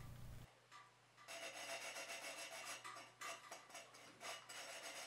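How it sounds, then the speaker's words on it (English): Sandpaper works the cut edge of a carbon handlebar shortened from 640 mm to 540 mm, a dense rasping rub in quick back-and-forth strokes, close and steady after a short quiet start, with no talk. "Sand the uneven areas."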